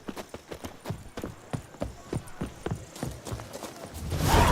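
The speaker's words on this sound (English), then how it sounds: "Roach could use some wind in her mane. Let's go for a ride." Hooves of Roach, a horse ridden in The Witcher 3, clip-clopping in a steady rhythmic gait, close and distinct, with a louder wind-like rush building at the very end.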